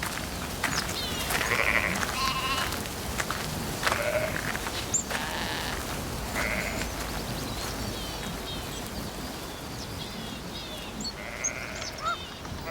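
A flock of sheep in the Provence countryside bleats repeatedly, many overlapping calls at various distances over a continuous outdoor background, with no talk.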